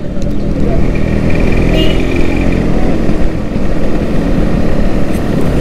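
A vintage Yamaha RX135 motorcycle engine runs steadily at close range, a continuous loud rumble with no breaks across the clip.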